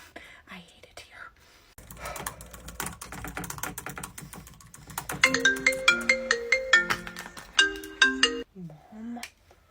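A phone ringtone plays a bright repeating melodic pattern, preceded by soft tapping and a whispering voice, then a voice speaks briefly at the end.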